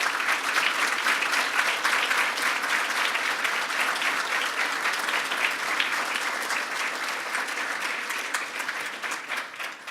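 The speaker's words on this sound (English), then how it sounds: "this round of applause is for your hard work" An audience at a 2017 turnaround ceremony gives the organizing committee a long, steady round of dense clapping that holds level for about ten seconds before easing slightly at the end.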